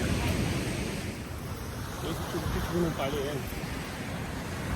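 Ocean surf rolls and washes continuously at 1,000 Steps Beach, mixed with wind rumble on the microphone, while people talk nearby.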